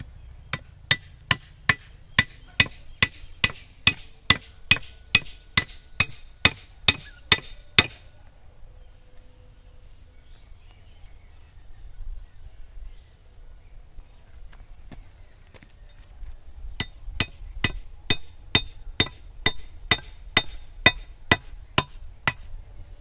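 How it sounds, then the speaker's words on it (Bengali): Sharp metal-on-wood hammer blows drive a wedge into a loose hoe head, a steady run of about twenty evenly spaced strikes, a quiet pause, then another rapid series, close and loud outdoors. "এই কোদালের এই যে ডামাট গেছে লুজ হয়, তো এটাকে গোজ দিতে হবে, টাইট করবার জন্য"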